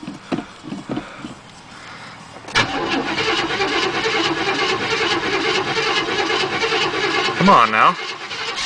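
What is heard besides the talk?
Chevrolet Chevelle engine cold starting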